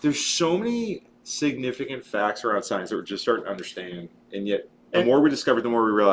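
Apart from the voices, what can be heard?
No everyday noise stands out behind the speech.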